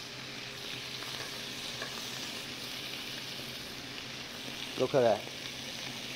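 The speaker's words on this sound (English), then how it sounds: "So let's sear. Let's sear this, guys." Octopus sears in a hot pan with a soft, steady sizzle and crackle throughout, and a person speaks briefly near the end.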